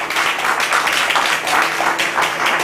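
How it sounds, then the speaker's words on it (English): Audience applause at an investment summit session, a loud, dense wash of many hands clapping continuously with slight swells, close and sustained throughout. "So another round of applause from Ms. Christy Chi"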